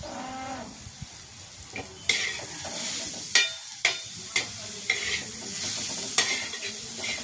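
Chili and garlic sizzle in hot oil for a traditional Ayurvedic vegetable dish, a steady loud frying hiss with sharp bursts of spattering and stirring scrapes, no voices.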